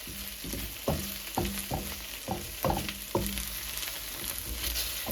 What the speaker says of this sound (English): On medium heat, we fry the okra.